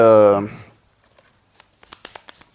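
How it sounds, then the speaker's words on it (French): A standard 52-card deck of ordinary playing cards being shuffled, a short run of crisp riffling flutters and snaps after a voice speaks at the start. "on mélange un petit peu, parce que comme ça, il n'y a pas d'ordre spécifique"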